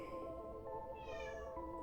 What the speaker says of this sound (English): And I'm sorry if you can hear my kitty crying.